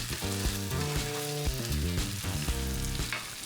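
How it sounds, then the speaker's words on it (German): Peeled garlic cloves hit a hot frying pan and sizzle steadily, a close, crackling fry with light stirring and no voices. "Dann gebe ich die geschälten Knoblauchzehen in die Pfanne."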